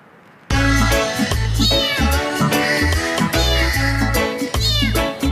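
A small kitten trapped in a fourth-floor shed meows loudly and repeatedly, high-pitched cries coming one after another at close range, with no talking.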